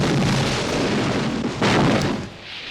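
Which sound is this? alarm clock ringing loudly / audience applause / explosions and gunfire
explosions and gunfire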